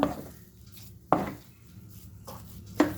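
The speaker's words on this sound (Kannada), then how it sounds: "ಸಕ್ಕರೆ ಪಾಕದಲ್ಲಿ ಚೆನ್ನಾಗಿ ಮಗ್ಚಬೇಕು" Semolina mixture being stirred into sugar syrup in a pan, with a few sharp scrapes of a spoon against the pan at irregular intervals over a low background hiss, no talking.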